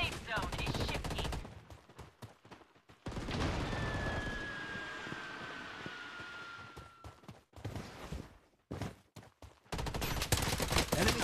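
Rapid bursts of automatic gunfire in the shooter video game Bloodstrike, crackling in clustered volleys at the start, middle and end, with a quieter stretch between them.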